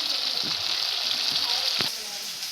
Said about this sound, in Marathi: आता आपल्याला याच्यात तेल टाकून घ्यायचं आहे कढईत आणि मसाला परतून घ्यायचा आहे तो.